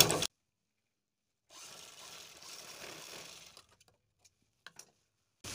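A foot-pressed sewing machine stitches a size 36 bra as a soft, faint whirring run of about two seconds, followed by a few tiny clicks in near silence.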